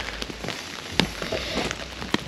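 Rain falling at a rally stage in cold weather, a steady patter with scattered sharper drops and taps, close and alone.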